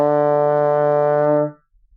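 Trombone holding one note pitched too low instead of the intended higher G, a rich, steady brass tone lasting about a second and a half before fading out.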